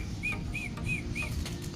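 Racing pigeons flapping their wings as they are released at a basketing session, four quick, evenly spaced wingbeat bursts close by, with no talking.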